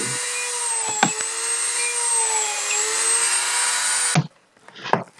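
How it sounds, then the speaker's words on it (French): A small Dremel drill whines at a high, steady pitch as it bores holes in leather for a knife sheath, with a few knocks and clunks and then a sudden stop followed by quiet handling noises. "je fais les trous marqués avec l'outil tout à l'heure à l'aide d'une petite perceuse"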